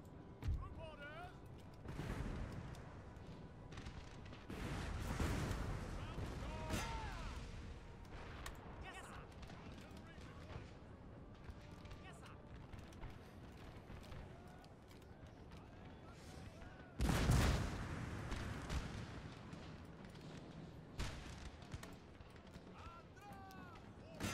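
Musket volleys crackle through a Napoleonic-era battle in the game Napoleon: Total War, with bursts of massed gunfire and a loud blast near the middle, all under steady commentary from a player.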